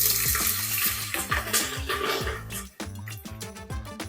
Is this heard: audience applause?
no